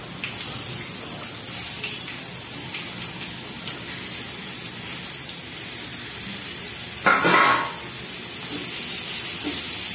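Pumpkin pieces tipped into a hot pan of oil and turmeric, giving a steady broadband sizzle throughout with a louder burst of hissing about two-thirds through as the vegetable hits the fat; no talking.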